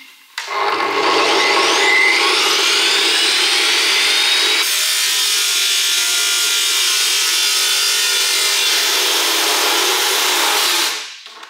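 Metal bars being cut with a power tool running off a DJI portable power station, a loud, steady grinding whine that starts abruptly, holds for about ten seconds, shifts pitch midway, then stops.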